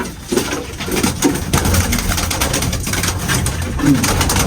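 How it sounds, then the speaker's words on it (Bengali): Golden Pakistani pigeons coo in a busy loft, with several low burbling calls overlapping close by over a dense, noisy background. "এই কবুতরটা হচ্ছে আপনার গোল্ডেন কবুতর এটা পাকিস্তানি কবুতর"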